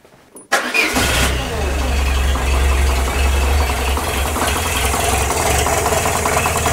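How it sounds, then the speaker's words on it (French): A Peugeot 205 engine cranks and catches, then idles loudly and roughly with an uneven, lumpy rumble throughout, the idle unstable and the engine not revving up. "Ce ralenti n'est pas stable du tout."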